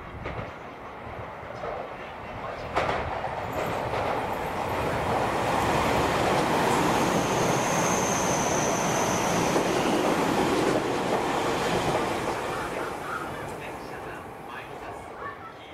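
A train speeds through a Japanese railway station without stopping, a loud broadband roar swelling from about three seconds and holding steady, with a high squeal near the middle, then easing off toward the end.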